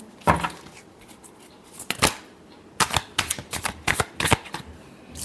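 Tarot cards being shuffled at close range, in quick bursts of crisp riffling and flicks, a few separate rounds with short pauses between them.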